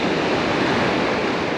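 Small waves lapping at a fishing pond, a steady broadband wash with some wind noise, continuous and close.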